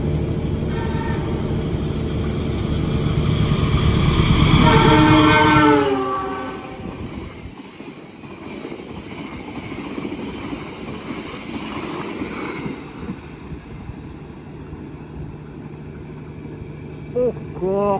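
Kutojaya Selatan passenger train in Indonesia speeding past at night at about 120 km/h, a loud, close roar with a horn blast that builds to a peak and then drops to a steadier rumble of passing cars.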